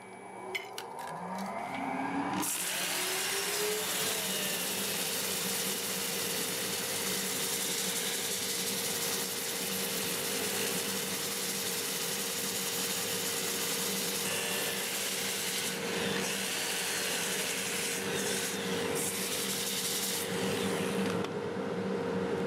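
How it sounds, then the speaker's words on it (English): A wood lathe running in reverse at about 380 rpm spins with a steady mechanical whir while 80-grit sandpaper rasps against turning cracked English walnut, continuous and fairly loud throughout. "Start with 80 grit with the lathe running in reverse at about 380, and I'll sand it to 400"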